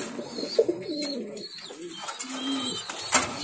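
Fancy pigeons, including King and crossbred birds, coo close by in soft, rolling, throaty calls that overlap one another, with a faint chirp and some light background noise.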